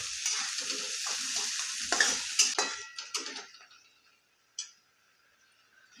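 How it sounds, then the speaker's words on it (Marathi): Onion and green chillies fry in hot oil in a pan, sizzling steadily while a spoon stirs and clinks against the metal; the sizzle fades into near quiet, broken by one last sharp clink. "आणि मिरची थोडीशी फ्राय झाली की मग आपल्याला कांदा घालायचा आणि कांदा आपल्याला चांगला फ्राय होऊ द्यायचा"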